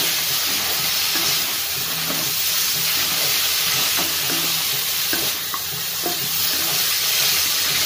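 Drumsticks are stirred into a frying spice masala in a pan, giving a loud, continuous close sizzle and hiss with occasional light scraping stirs and no voices.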